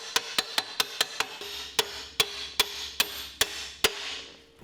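A small hammer taps metal parts of a Mega Moto mini bike swingarm during a bolt-on rear suspension install, about a dozen sharp, evenly spaced knocks, close and clear, with a faint ringing between strikes.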